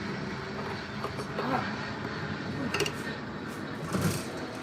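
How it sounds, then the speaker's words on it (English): A plane passes overhead outdoors while baits are being made, a steady broadband roar sitting under the whole scene with faint knocks and handling noises. "plane flying over"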